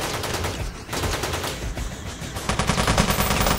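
Rapid submachine gun fire in the top-down shooter Teleglitch, a dense continuous burst of shots running through the whole stretch, loud and close, with no talking.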